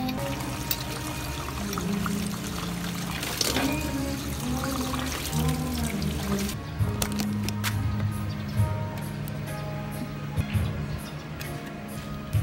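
Water pours and trickles steadily over a Honda Click 125i motorcycle part being washed with dishwashing liquid to clear off Strepsol paint remover, a continuous close splashing flow with a few louder gushes.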